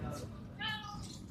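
A cat gives a single short, tonal meow near a riverbank on the Padma, set against steady low background noise.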